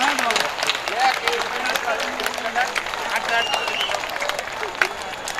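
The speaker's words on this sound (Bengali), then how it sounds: "এইবার কিন্তু আমাদের দেখাতে হবে যে আমরা একটু জোরে করতালি দিতে পারি।" Audience clapping at a flower-greeting ceremony for invited guests, a brisk scatter of handclaps running under voices and crowd murmur, moderately loud.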